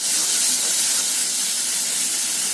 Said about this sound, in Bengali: আচ্ছা, আদা রসুন বাটাটা মোটামুটি ভাজা হয়ে গেছে।